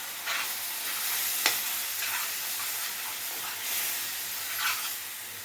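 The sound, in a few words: pouring jaggery syrup and stirring kummayam sweet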